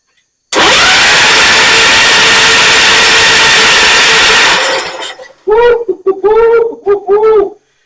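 A Kohler K241 small engine on a Ford LGT 100 lawn tractor cranks over loudly and steadily for several seconds with a rough broadband roar, then stops, followed by a few short voiced bursts.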